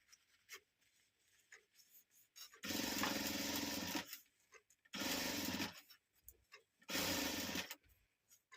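A sewing machine stitches a makeup purse made from a stiff rice-sack fabric, three separate bursts of fast rattling running lasting a second or two each, with quiet handling gaps between, up close.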